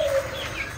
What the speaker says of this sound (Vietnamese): mình cũng mới vừa gầy lại một mớ gà Silama cả nhà